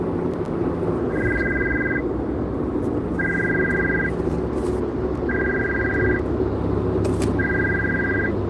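A telephone rings with an incoming call: four evenly spaced electronic rings, each about a second long, repeat over a constant low background hum.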